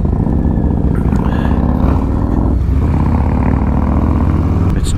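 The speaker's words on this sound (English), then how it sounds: "You get a headache from the loud sound of the pipe." A Harley-Davidson M8 motorcycle with a long, loud exhaust pipe rumbles steadily at close range, a deep, continuous engine throb with no talking.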